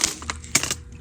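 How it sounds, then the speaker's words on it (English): A keyboard is pried out of a Lenovo school laptop, with sharp plastic cracks and clicks in quick succession, close and fairly loud with no talking. "Let's take the keyboard out."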